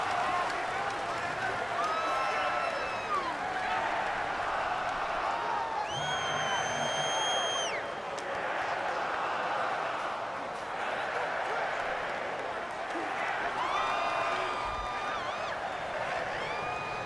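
Stadium crowd noise in a Madden NFL game between the Falcons and Buccaneers forms a constant dense roar, swelling in waves with faint whistles and cheers. Commentators talk over it.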